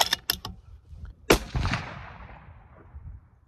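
A 6BR rifle fires one sharp, loud shot at close range during load development at a shooting range, followed by a rolling echo that fades over a few seconds, with faint handling clicks just before.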